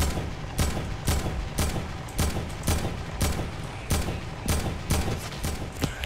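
A combat shotgun fires in a video game, loud booming shots repeating about twice a second in a steady run of roughly a dozen blasts.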